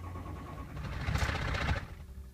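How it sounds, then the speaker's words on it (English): A Ford 6.0 Powerstroke diesel with a no-power fault is cranked on its starter, a steady rhythmic churning that swells louder midway, then tapers off before firing. "I'm cranking it here, trying to get a start."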